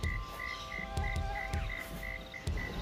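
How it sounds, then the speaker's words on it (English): A thin, high mosquito whine buzzes steadily, close and faint, with a few soft clicks and taps around it. "We've all heard that sound. Mosquitoes."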